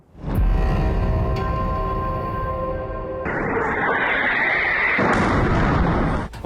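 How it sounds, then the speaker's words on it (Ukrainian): Heavy, rumbling missile strike explosions with a roaring, sustained low boom, followed by a second blast and lingering rumble. "вибух, потім ще один."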